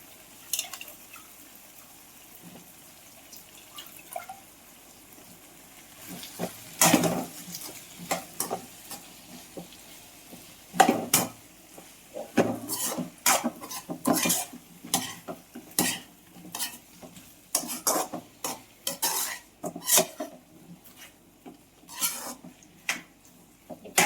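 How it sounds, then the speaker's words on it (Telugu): Chunks of potato and eggplant go into a pan for a spiced curry and are stirred, giving repeated scraping, clattering strokes over a soft sizzle, close and fairly loud, with no voices. "బంగాళాదుంప ముక్కలు వంకాయ ముక్కలు వాటిలో కడిగి వేసేసుకుంటున్నాం"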